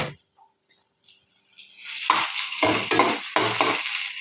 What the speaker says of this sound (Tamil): அதை போட்டு நல்லா வந்து ஃப்ரை பண்ணிக்கலாம்.